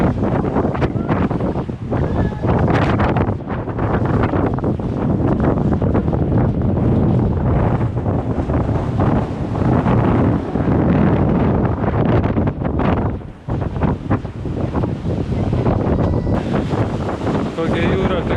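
Strong wind roars and buffets the microphone without pause, with sea and waves churning beneath the gusts.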